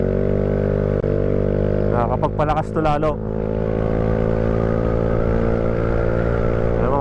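A motorcycle engine idles steadily close by after a Marsh Gas treatment, with a smooth, even hum throughout and someone talking briefly over it partway through.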